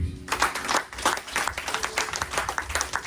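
Church congregation applauding: a lively, fairly distant round of clapping with irregular bursts running throughout, steady in rhythm with a few louder swells.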